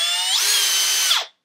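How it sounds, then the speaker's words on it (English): A power drill with a 1/8 inch bit drills into a sump pump discharge pipe, a loud, steady whine that rises in pitch as the bit bites, then spins down and stops abruptly. "So then you'll get the drill bit started,"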